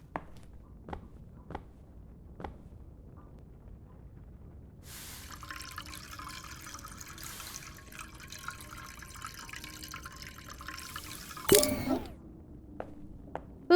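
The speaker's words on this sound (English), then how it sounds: "Pour the liquor, which I'm assuming you mean" Thick chocolate liquor poured in Chocolate Factory Simulator, a faint steady liquid stream running for several seconds amid scattered drips and clicks, ending with a brief louder splash.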